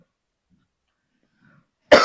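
A single short, loud cough bursts out at the very end after near silence, during a biology lecture on the cell.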